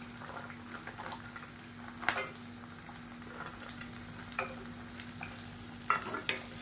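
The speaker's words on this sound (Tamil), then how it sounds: "இப்போ இந்த பரண்டை வதங்கட்டும் இதிலே பார்த்தீங்கன்னா ஒரு நூறு கிராம் அளவுக்கு பூண்டு சேர்த்துக்கலாம்" Pirandai (adamant creeper) and garlic sautéing in oil for a South Indian kuzhambu: a quiet, steady sizzle with a few brief scraping stirs, all under a low, constant hum.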